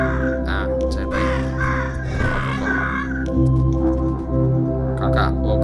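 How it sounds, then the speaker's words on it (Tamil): Cartoon crows caw repeatedly in the puzzle video game Monument Valley, harsh calls recurring over a sustained tonal musical drone, close and clear. "காக்கா காக்கா சீக்கிரம்."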